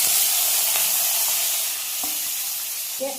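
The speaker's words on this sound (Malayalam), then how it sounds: "കടുക് പൊട്ടിയിട്ടുണ്ട്" Mustard seeds pop in hot oil, sizzling steadily with a few scattered pops and crackles, a continuous hiss close by with no voices, while cooking mulaku thokku.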